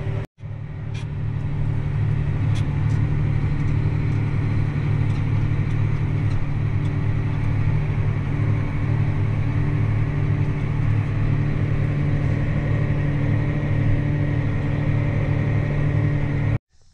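A grain truck engine idling during unloading at a corn harvest, a loud, steady low rumble that holds almost unchanged for the whole stretch before cutting off abruptly.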